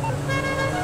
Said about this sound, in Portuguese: Olha a buzina